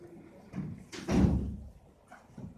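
A door opens with a soft rattle, then a heavy whooshing swing and a muffled thud as it shuts, followed by a faint click, close by in a quiet room.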